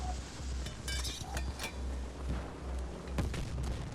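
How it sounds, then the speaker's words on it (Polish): Explosions and gunfire in the video game Battlefield 2042 sound as repeated low booms and sharp cracks over a steady rumbling bed, moderately quiet and in an uneven rhythm, with no speech. "No wybuchy są fajnie zrobione, całkiem."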